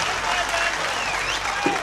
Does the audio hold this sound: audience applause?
yes